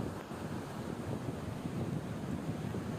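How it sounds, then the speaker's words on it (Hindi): The Purna river, flooded after days of heavy monsoon rain, rushes in a steady, low, churning roar of fast-moving water with wind buffeting the microphone. "तो जल का बहाव बहुत ज्यादा तेज यहाँ नजर आ रहा है"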